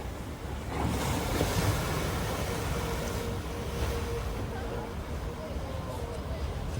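Steady surf washes in continuously at a beach near Padang with wind buffeting the microphone, waves breaking over a stranded fuel tanker, and a voice speaks over the noise of the waves.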